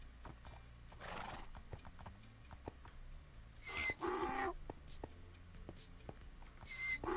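Horses inside a stable, with hooves clopping and knocking on the floor and two loud, close neighs rising and falling, amid rustling and faint background voices.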